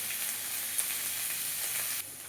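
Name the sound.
cauliflower frying in a pan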